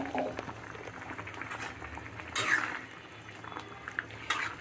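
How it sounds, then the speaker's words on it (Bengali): Leafy greens boil steadily in a pot of water, giving a close, continuous bubbling with soft pops and brief louder surges. There are no clear voices. "শাকটি সিদ্ধ হতে থাকুক"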